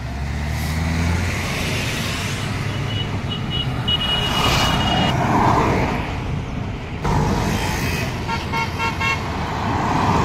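Traffic on a roadside near Nashik on the way to Trimbakeshwar: a car engine rumbles past at close range while horns toot in short bursts, with a steady road hum beneath.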